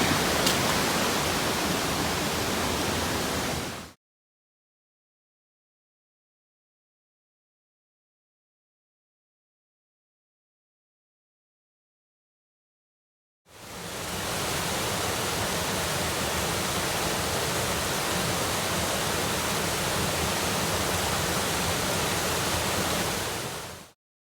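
A mountain creek on a backpacking trail rushes over rocks in a steady, full wash of water noise, heard in two long stretches separated by about ten seconds of silence.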